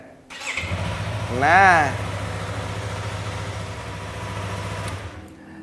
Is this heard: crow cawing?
no